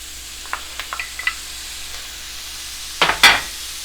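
Onions dropped into a couple tablespoons of melted butter: a soft sizzle marked by a series of light clicks and scrapes, then two louder bursts of hissing sizzle near the end as more goes in, up close.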